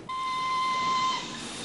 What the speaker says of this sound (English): Is the train stopping?